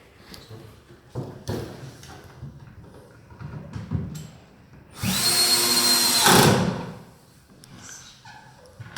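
A power drill drives long screws into a wardrobe panel, with one loud sustained whirring burst of about a second and a half amid quieter handling knocks and bumps, close by.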